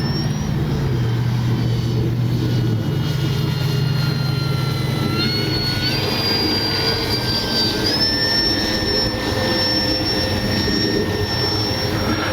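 Continuous engine drone with a high whine that rises and steps up in pitch, steady and fairly loud, from a radio-controlled F4U Corsair model warbird flying overhead; no talking.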